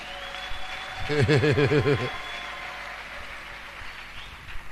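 Church congregation clapping together in a brief burst of applause lasting about a second, with a sung or chanted melodic line rising over it, then fading back to a quiet room hum.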